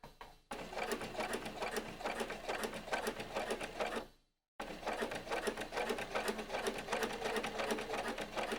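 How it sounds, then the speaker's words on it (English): A sewing machine topstitches a jeans fly zip in two bursts of rapid, rhythmic stitching, close and moderately loud. A short silent pause falls between the runs, with no voices. "and top stitch, again continuing as far as we can"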